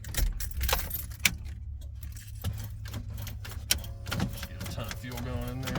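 Keys jangle repeatedly as the wrong key is tried, with a car engine idling underneath and a few sharp metallic clicks; the rattling is close and fairly loud throughout.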